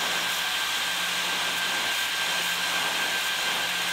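A Creality laser cutter runs at 100% power, its steady loud fan-like rush and hiss holding unchanged and close throughout.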